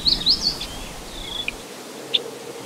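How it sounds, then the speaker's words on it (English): Faint, sparse high chirps and short bird calls over a quiet prairie background with insects, with a few brief isolated tweets scattered across the stretch. "You hear the birds, you hear the insects"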